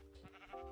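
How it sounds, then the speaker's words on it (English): Sheep in the video game Minecraft giving a short, quiet bleat, brief and alone. "Oh, a sheep!"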